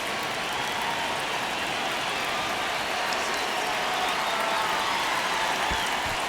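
Steady stadium crowd roar in a baseball video game, MLB The Show 26, during a tense ninth inning, a dense continuous wash of cheering and murmur held at an even loud level throughout.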